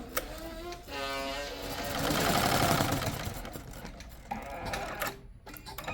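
A Smartstitch S1001 embroidery machine stitches out a design with a fast, steady mechanical whir and rapid needle chatter, near and continuous, with slight shifts in pitch as it runs.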